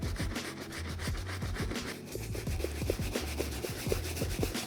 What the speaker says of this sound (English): as I'm cleaning the sneaker, I'm just giving it a full pass around the whole shoe